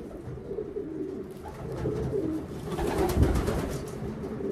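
A racing pigeon held in the hand gives soft, low cooing murmurs, close and fairly quiet, repeating over a muffled background with a few rustles.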